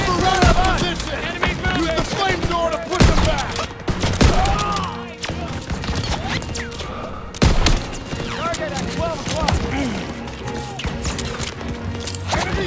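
Dense, loud World War II battle gunfire in Call of Duty WWII, with rapid bursts and heavy single shots cracking over each other throughout, while voices shout under the shooting.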